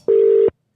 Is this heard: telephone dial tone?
yes